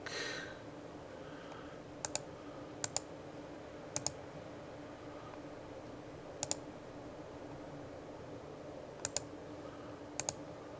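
Sharp mouse clicks from a computer during Factorio play, arriving as isolated single and double clicks spaced a second or more apart over a steady low hum, close and distinct with no talk.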